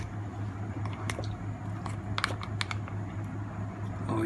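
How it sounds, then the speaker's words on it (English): A spoon scrapes and taps inside a mug as chocolate mug cake batter is stirred, soft clicking and squishy stirring sounds repeating irregularly over a steady low hum, close and fairly quiet. "Aisha is trying hard to mix the chocolate in the mug"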